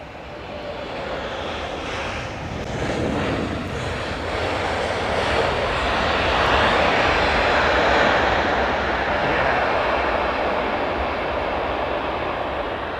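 A loud, continuous aircraft engine roar from a plane landing in challenging conditions, heard at a distance as a broad rushing drone that swells slightly and holds steady, with no voices.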